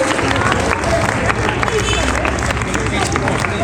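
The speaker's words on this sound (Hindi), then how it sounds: "तालियां रिसीव करें।" Applause from a crowd at a school event honoring children, dense and steady throughout with crowd babble mixed in.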